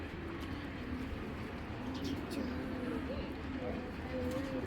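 A female Green Ice racing pigeon of a foreign bloodline gives soft, low repeated coos close by, heard under a person's talking.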